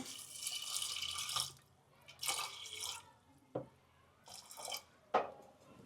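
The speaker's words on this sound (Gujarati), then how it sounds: "થોડું પાણી નાખવાનું છે" Water splashes and pours in short bursts into a metal pressure cooker holding beans, with brief clanks and drips between the pours.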